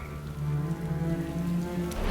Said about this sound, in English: Hey, awful weather we're having. Rain came out of nowhere.